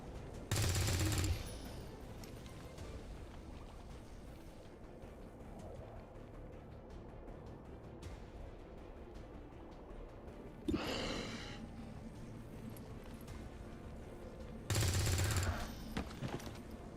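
Short, loud bursts of XCOM 2 gunfire break out three times, near the start, the middle and the end, with a low, quiet game ambience between them.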